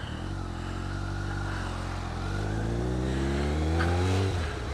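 An old Kawasaki ZZR motorcycle is ridden along, its engine note steady and close, then climbing in pitch under acceleration before easing off near the end; wind noise runs throughout.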